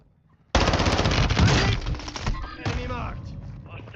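Rapid burst of video game gunfire, loud and close, with dense overlapping shots in the first seconds and a second volley after, under voices talking.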